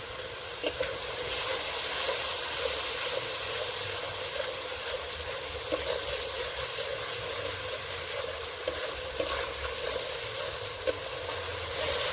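Coriander leaf paste and a splash of water hit a hot pan during an egg dish, producing a loud, continuous sizzling hiss with occasional stirring clicks and scrapes.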